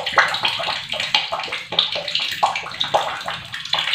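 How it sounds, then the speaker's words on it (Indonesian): Water runs from a slightly opened tap, splashing and trickling in quick uneven bursts close by, fairly loud, with no voices. "buka sedikit keran"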